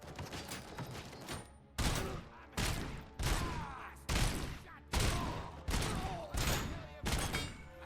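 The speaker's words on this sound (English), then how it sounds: "Back to Murphy's gun for a bit. That's 50 shots." Murphy's pistol firing in the video game Robocop: Rogue City, a burst of rapid shots followed by about seven loud, evenly spaced heavy single shots, each with a short decaying tail, with no talking.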